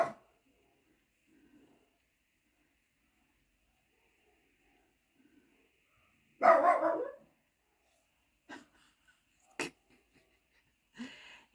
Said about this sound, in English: He's only barking because he can hear about 30 dogs.